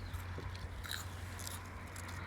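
Crisp crunch of a bite into a fresh raw brassica vegetable such as cabbage, collards or purple sprouting broccoli, close and fairly quiet, a few sharp crackles over a steady low hum, with no talking.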